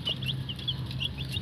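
Rhode Island chicks peep in a cage, a rapid series of high, thin chirps close by, repeating several times over a low background hum.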